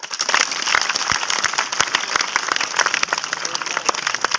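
A room full of people clapping steadily, loud and close, a dense crackle of hands that keeps going throughout.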